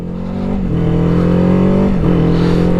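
A 2024 Kawasaki Ninja 7 Hybrid motorcycle pulls away smoothly from a stop, its close, loud engine hum rising steadily in pitch and dipping briefly during a shift before climbing again.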